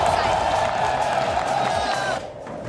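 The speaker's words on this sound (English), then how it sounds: "the crowd is absolutely hyped for a big day" Large esports match crowd cheering, whooping and clapping in a steady loud roar that eases near the end, with voices shouting through it.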